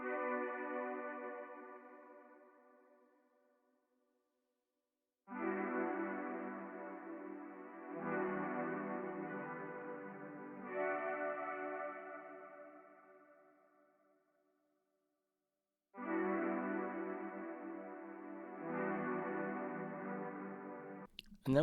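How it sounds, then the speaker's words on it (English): Augmented brass synth patch called Sky Ensemble, used for an ambient dark R&B sample, swells in as soft sustained chords in three phrases separated by silent gaps, with the chords shifting within each phrase. "we added this augmented brass noise or sound called the Sky Ensemble"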